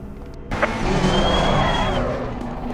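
A GT race car in Assetto Corsa Competizione pulls out of the pit lane at the Nürburgring on cold tyres, its engine note climbing steadily and droning loud and close with no talk over it.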